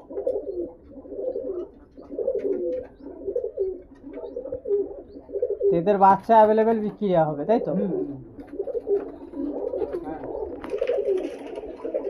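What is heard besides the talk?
pigeons cooing in a loft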